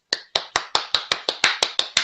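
About ten sharp, evenly spaced hand claps in a steady rhythm, close and crisp, each one ringing briefly before the next.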